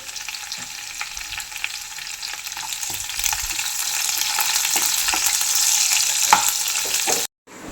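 Mustard seeds and curry leaves crackle in hot oil as a tempering for Angamaly-style mango curry, a loud, steady sizzle dotted with sharp pops that runs unbroken and then cuts off abruptly near the end.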